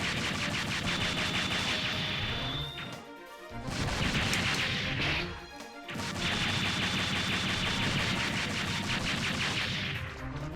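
A barrage of missiles fired in Mega Man Legends, loud rapid bursts of blasts and explosions in sustained volleys, broken by two brief pauses before the firing resumes.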